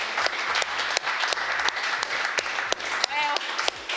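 An audience applauds award winners at a digital marketing agency awards event, continuous clapping with sharp individual claps standing out, alongside a brief overlapping voice.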